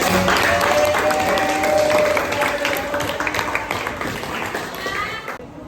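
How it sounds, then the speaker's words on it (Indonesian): Classroom applause during a science lesson: a dense, sustained wash of many hands clapping at once, with voices mixed in, fading away near the end. "berikan aplaus buat Nevi"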